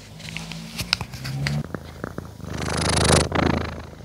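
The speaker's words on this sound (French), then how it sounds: "Un petit peu de ronron thérapie." A small cat purrs up close in a craft studio, a loud rhythmic rumbling purr with soft rustles and clicks around it and no talking.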